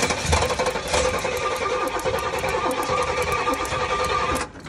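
A hot-ignition start on a vintage Pontiac GTO project car: a dense, loud, steady engine roar holds for over four seconds with a high harmonic whine, then cuts off abruptly near the end.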